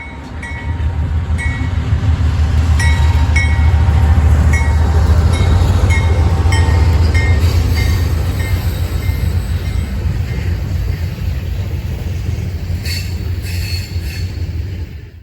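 A short local freight train of about 20 axles rolls past on railroad tracks, a loud continuous rumble of wheels on rail with clicking joints and faint metallic squeals, steady throughout and close.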